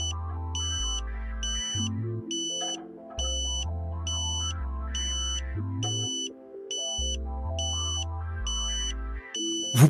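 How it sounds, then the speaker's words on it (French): A Tooway satellite dish finder plays a repeating two-tone electronic 'ambulance' beep pattern to signal a locked carrier. High, evenly spaced bleeps ring over alternating lower tones in a steady cycle, with no talk. "jusqu'à entendre la tonalité ambulance qui indique que la porteuse a été trouvée"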